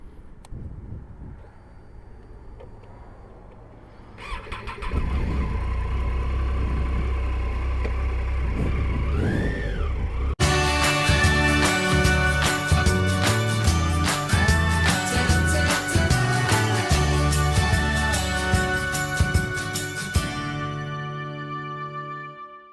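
Motorcycle engine starting on a sunny day, first a low rumble, then a louder steady running drone with some rising revs. Music-like tonal layers join partway and continue to near the end.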